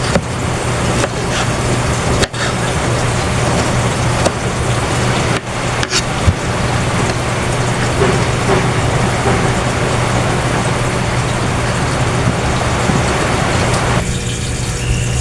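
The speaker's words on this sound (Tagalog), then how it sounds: "Grabe lakas ng ulan, naririnig na siguro." Loud, steady downpour of heavy rain, a dense continuous hiss that fills the scene without letting up; no voices are heard.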